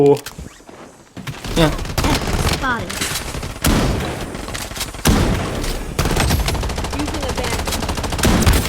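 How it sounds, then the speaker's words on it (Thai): Bursts of rapid automatic gunfire in a shooter video game, repeated volleys separated by brief pauses, loud and close, with someone talking over parts of it. "นี่ไง ผมยิงโคตรมันเลย"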